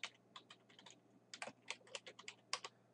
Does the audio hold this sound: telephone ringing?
no